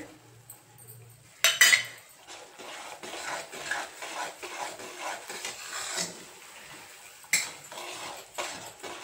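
Cashews, almonds and raisins dropped into ghee-roasted semolina in a pan, with sharp metallic clinks of a spoon against the pan and soft scraping stirs at an irregular pace, close and fairly quiet.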